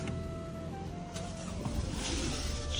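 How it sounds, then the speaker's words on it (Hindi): A car passes close by on a road in Haldwani, Uttarakhand, its engine and tyre noise swelling steadily and growing louder toward the end, with no voices. "गाइस हमारी गाड़ी आ चुकी है, अब हम इसमें जाएंगे"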